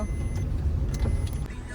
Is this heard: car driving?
yes